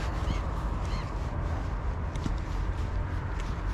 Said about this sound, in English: Look at the size of that big bird there, boys.